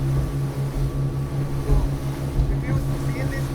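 A motorboat carries passengers out to Netrani Island off Murudeshwara for scuba diving, its engine droning in a steady low hum. Wind buffets the microphone throughout the short ride.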